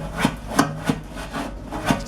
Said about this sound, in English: brush the bottom now, as far away as we can get. Loosen up any garbage that's up in there.